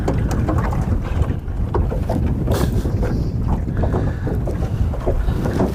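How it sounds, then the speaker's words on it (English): A trolling motor runs on a fishing boat out on the water, a continuous loud rumble mixed with wind buffeting the microphone. "my trolling motor is has a mind of its own this morning"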